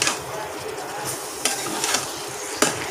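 Beef and onions being stirred in oil in a pan, with a steady sizzle under scraping spoon strokes and a few sharper clanks against the pan.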